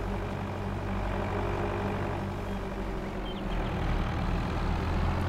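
Lorry driving in Farming Simulator 22, a steady low engine drone that stays even and continuous with no break and no talk over it.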